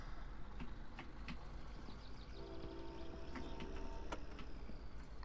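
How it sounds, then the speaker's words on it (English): A train rolls past in the driving game My Summer Car, a steady rumbling rush with scattered clanks and a horn-like tone rising midway, heard at moderate distance over constant ambient noise. "there's that train I was telling you guys about"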